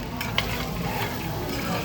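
Onions and garlic sizzling in a hot pan while being lightly toasted for a vodka rigatoni sauce, a steady close crackle with a brief stir or utensil clink.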